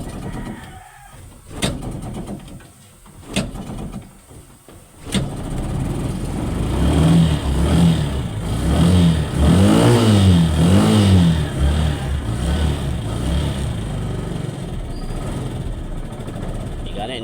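Small engine with a carburetor problem catches and starts, then revs steadily with rising and falling pitch, loud and close, after several sharp clicks and failed cranking noises at the start; a rooster crows faintly nearby.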